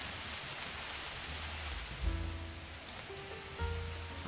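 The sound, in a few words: rain falling outside a bakery with a foot bath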